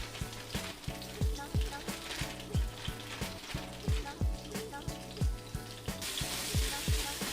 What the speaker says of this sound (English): I'm looking to just sear the meat.